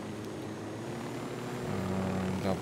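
A helicopter flying in Ghost Recon Wildlands gives off a steady engine drone and rotor hum at moderate distance, growing slightly louder toward the end.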